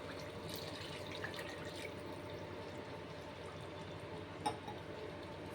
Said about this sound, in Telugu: ఇప్పుడైతే వాటర్ వేసుకుందాం